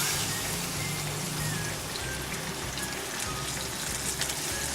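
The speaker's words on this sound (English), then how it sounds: "I'm going to add some water." Water poured into a pan of frying chicken masala hisses and sizzles in a loud, dense, steady crackle, close by and unbroken.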